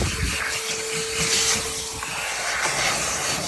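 A blower or compressed air line clears debris from a car interior during detailing with a loud, continuous rushing hiss close up, rising and falling slightly as the nozzle moves.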